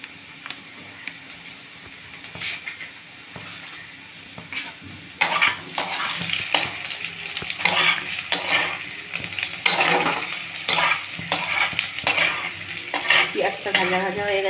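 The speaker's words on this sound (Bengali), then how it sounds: "পেঁয়াজটা ভাজা ভাজা হয়ে গেছে।" Onions sizzle in a pan for a rohu fish dish, stirred with clattering scrapes; the frying is soft at first and grows noticeably louder and busier about a third of the way in.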